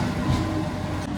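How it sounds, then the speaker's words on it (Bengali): A local train pulling into platform 1 at Naihati Junction in West Bengal, a brief, loud, steady rumble of wheels and carriages heard from nearby. "ট্রেন ঢুকুক 1 নম্বর প্ল্যাটফর্মে,"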